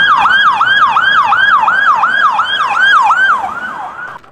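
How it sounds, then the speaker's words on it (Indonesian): Toy police patrol car siren: a loud, close electronic wail rising and falling in quick repeated cycles, about ten sweeps, fading slightly at the end with no voices over it. "Wah, mobil patroli polisi."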